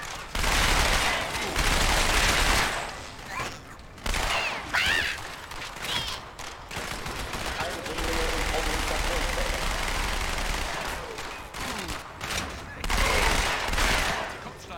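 Rapid automatic gunfire bursts in the video game Halo 2: Anniversary, loud and repeated in several long volleys with short gaps, mixed with game effects and some speech.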